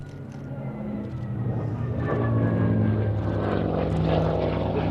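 A Hawker Sea Fury piston-engined propeller fighter flies at a Duxford airshow, its steady droning roar swelling as it approaches and staying loud and sustained throughout.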